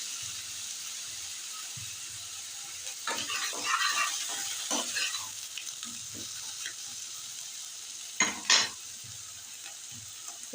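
Fish eggs frying in a pan, a constant hiss of sizzling oil with bursts of scraping and stirring and a couple of sharper crackling spikes near the end, no talking.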